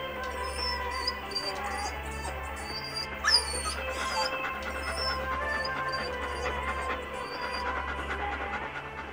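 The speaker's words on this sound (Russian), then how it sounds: "Собака подбегает к Джеймсу и начинает лизать ему лицо." A dog in Silent Hill 2 pants rhythmically and steadily, close and moderately loud, against a faint high insect-like hum, with a brief sharper sound near the middle.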